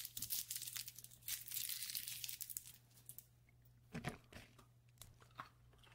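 Chewing gum wrapper crinkles and tears in quick, close crackles, then softer, intermittent chewing sounds follow, all quiet and near with no talking.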